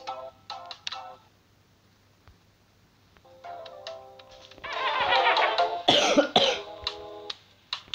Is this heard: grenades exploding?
no